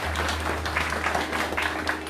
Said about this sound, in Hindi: तो हम सब क्यों ना एक बार शानदार ताली से अपनी म्यूजिक टीम को विशेष धन्यवाद करें।